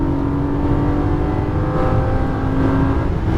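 Lamborghini Gallardo accelerating hard through a turn on a Las Vegas track, a loud, steady engine roar with rising revs and tire whir, close and continuous with no speech.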